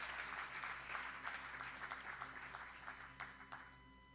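Applause from a church congregation, a soft, steady spread of many hands clapping that fades slightly toward the end, heard at a distance with no speech.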